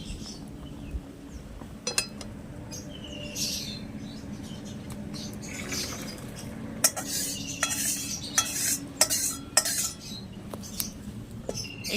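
Boiled chana dal being poured out and stirred in a metal pot, soft scraping and wet stirring with sharp clinks of a spoon against the vessel, growing busier toward the end, no talk.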